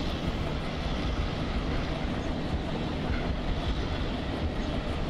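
A WDM3 diesel locomotive from the Vatva shed hauling the Vivek Express at Ahmedabad station in the Open Rails train simulator, a constant dense engine rumble and roar with no breaks.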